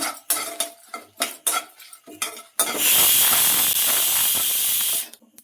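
Mustard seeds for a Malnad-style taro root and amaranth leaf sambar hit hot oil after a few light utensil clinks, bursting into a loud, steady sputtering sizzle that holds for a couple of seconds before cutting off.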